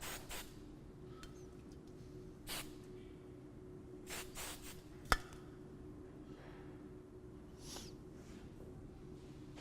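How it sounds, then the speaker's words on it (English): Hairspray hisses on hair during an Indian bridal updo in several short, faint spray bursts over a quiet room hum, with one brief sharp click. "So let's spray as we move the hair over."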